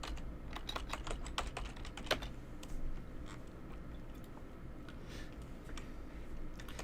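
Fast, steady typing on a computer keyboard while npm install commands are entered, a dense run of light clicks and clacks close by with no talking.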